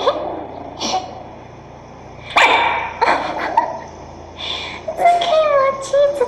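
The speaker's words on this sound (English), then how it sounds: "Stop barking at it." A puppy barks at a Kong toy in a series of sharp, close yips and barks scattered across the clip, with short high whimpering notes near the end.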